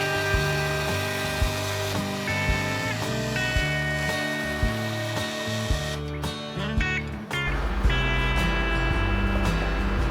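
A power saw buzzes steadily, its pitch shifting in stepped tones as it cuts wooden box parts, with no voices.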